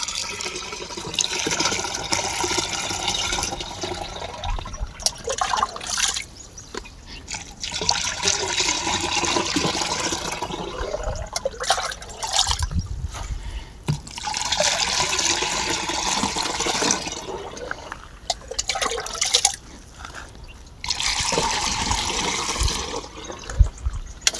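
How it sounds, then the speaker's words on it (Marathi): Water gushes steadily into a pesticide spray tank for an onion seedling spray mix, the rush rising and dropping in several long bursts with brief pauses between. "आता पाणी भरून घेऊ"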